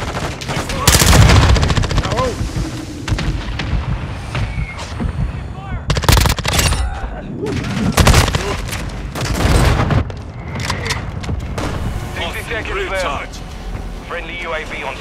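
Call of Duty: Modern Warfare II gunfire, with loud, close bursts of automatic shots and heavy booms in a busy firefight, while voices call out over the shooting.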